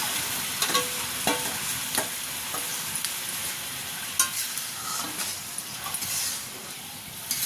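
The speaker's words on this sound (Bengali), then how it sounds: "একটু নাড়াচাড়া করে নিলাম। দেখুন চিনি রসটা ফুটে এসছে" Jujube pickle is stirred in bubbling sugar syrup, producing a continuous frying hiss with intermittent spoon scrapes and clicks against the pan, close and fairly loud, with no talking.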